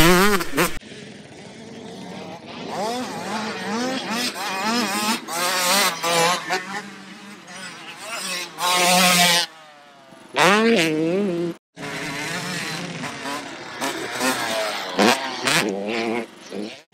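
Motocross motorcycles riding at an MX track, engines revving up and down in loud rising and falling bursts, with brief drops between passes and a near, continuous roar throughout.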